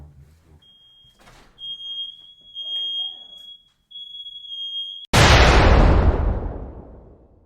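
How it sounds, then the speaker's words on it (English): A shrill, steady electronic smoke alarm tone, set off by food left on the stove, sounds in long bursts, then a sudden loud crash or bang cuts in and slowly fades. "That was the fire alarm."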